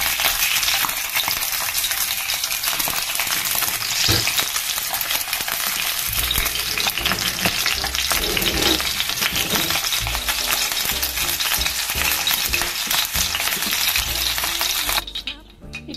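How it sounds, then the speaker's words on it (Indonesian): Fish frying in hot oil, cooked until slightly crispy in a home kitchen, gives a loud, steady, crackling sizzle that runs unbroken throughout with no voices. "Goreng sampai sedikit garing"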